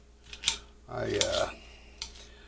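A serrated knife slicing bell peppers on a board, a few sharp tapping knife strikes and a short scraping cut, close and moderately loud, with a brief voice in the background.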